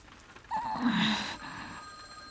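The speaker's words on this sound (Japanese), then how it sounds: "間違いなく電話の音だ。" A small, shrill telephone ringing in the visual novel Mahoutsukai no Yoru, one brief high-pitched ring, faint and close, over quiet background.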